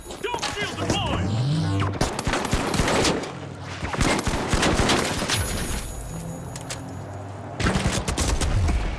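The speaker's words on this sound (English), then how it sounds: "And that guy's shooting me through my shield." Sustained gunfire in the online shooter The Finals, with rapid automatic bursts and repeated shots layered over game music and effects, loud and dense throughout, with someone talking over parts of it.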